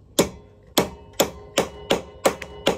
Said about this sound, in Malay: Lepas tu ambil tukul, ketuk sampai tenggelam nut yang loose tu.